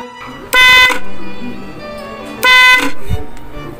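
Motorcycle horn wired through a relay sounds two loud, steady blasts of under half a second each, close up, with a brief quiet gap between them.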